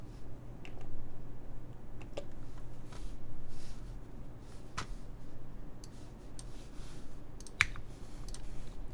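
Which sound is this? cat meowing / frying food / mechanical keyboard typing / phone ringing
mechanical keyboard typing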